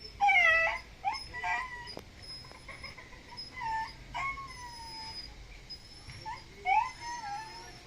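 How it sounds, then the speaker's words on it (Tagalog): A dog howls and whimpers in rising, wavering cries with short yips between them, fairly near, with quiet background and no speech. "Pasensya na po sa ingay ni Xiao, yung aso namin"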